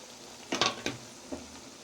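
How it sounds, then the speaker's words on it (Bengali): Chili pickle fries in a pan as mango paste is stirred in, giving a faint sizzle with a few short scraping stirs of a utensil against the pan, quiet and close, without talk. "বেশ খানিকক্ষণ থেকেই এটা ভাজা হচ্ছে, তো প্রায় মিনিট 7।"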